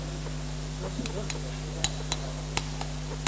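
Sharp metallic taps from a surgical mallet during anterior skull base dissection on a cadaver, a series of distinct irregular strikes over a steady hum.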